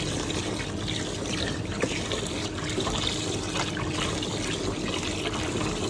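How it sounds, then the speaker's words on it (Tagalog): Water runs steadily over glutinous rice to soak it before cooking, a continuous close pouring and trickling wash with no talk. "Basahin na natin ang ating malagkit at itong lutuin."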